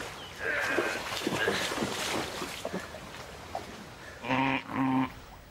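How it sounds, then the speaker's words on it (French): Outdoor river water noise and low rumble, then two loud, close bleats from Cotswold sheep being bathed, back to back near the end. "Stuart, Alex et Fonz doivent donner un bon bain dans la rivière à leur troupeau de Cotswolds"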